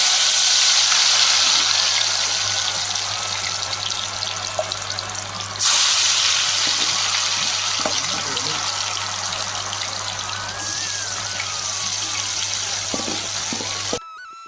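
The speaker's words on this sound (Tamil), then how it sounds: "பொட்டேட்டோவில் ஃப்ரெஞ்ச் ஃப்ரை தான் நான் செஞ்சிட்டு இருந்தேன்" Potato French fries frying in hot oil give a steady, loud, hissing sizzle that runs throughout, with a couple of abrupt level shifts and a low hum underneath, and no talk.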